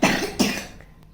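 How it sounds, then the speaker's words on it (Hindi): A child coughs twice in quick succession, close and fairly loud, each cough fading out with a short breathy tail. "ये देखो कितना खांसी हो रहा है।"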